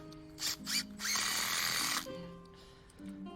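A power drill drives screws into timber decking posts on stony new-build ground outdoors, with two short whirring bursts and then a longer steady high-pitched run at moderate volume, followed by a quieter spin.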